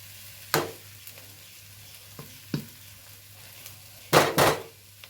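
Chicken curry with ground roasted coconut stirred in a pan: a few scraping, clattering strokes of a spoon against the pan, a louder double scrape near the end, over a low steady hum, no voices.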